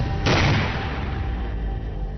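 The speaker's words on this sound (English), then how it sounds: "It is only after an explosion triggered near the entrance that the soldiers rush in for the kill." An explosion set off near the entrance of a building during an anti-terror drill by soldiers: one sudden loud blast whose deep rumble rolls on and slowly fades.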